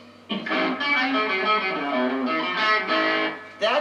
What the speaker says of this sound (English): took their normal amplifier and just cranked it all the way up. Which created a distortion